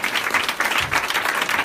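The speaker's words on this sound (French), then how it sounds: "Est-ce qu'on peut acclamer le Seigneur?" A congregation at a church service bursts into sustained applause mixed with cheering, a dense wash of clapping that stays loud and steady throughout with no pauses.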